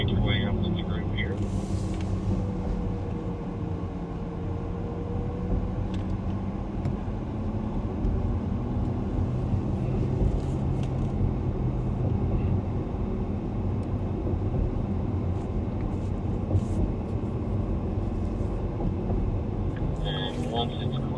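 A 2025 Porsche Taycan Turbo S Cross Turismo drives along a road, giving a steady, near electric-motor and tyre rumble with road noise that holds at an even level throughout, while people talk over it.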